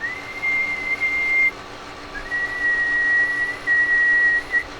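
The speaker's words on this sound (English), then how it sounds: "And let's do a whistle." A person whistles into an amateur radio microphone, holding two sustained steady tones with a brief break between them, clear and fairly loud against faint background hiss.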